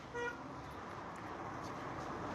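Vehicle traffic at the Kazakhstan–Kyrgyzstan border crossing, cars and freight trucks queued, with a brief horn toot near the start over a steady, faint roadway rumble.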